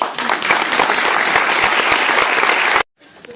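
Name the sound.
audience applause as speaker goes on stage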